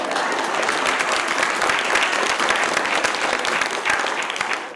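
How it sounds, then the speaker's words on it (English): An audience at a literary lecture applauds Prime Minister Mark Carney, a loud, sustained wash of many hands clapping with no talk over it. "Let's give our Prime Minister Mark Carney a round of applause"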